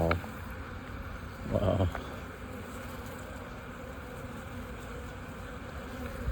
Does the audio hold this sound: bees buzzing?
yes